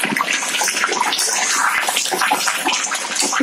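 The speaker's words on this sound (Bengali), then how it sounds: "এবারে অ্যাড করছি গরম জল।" Hot water poured into a simmering pot of chana potol alur dalna curry of cottage cheese, pointed gourd and potato, making a steady rushing, gurgling splash that continues without a break, close and fairly loud.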